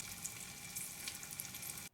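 Food cooking in a small covered pot over an Esbit solid-fuel burner, a soft continuous sizzle and bubbling, faint and steady with no talking.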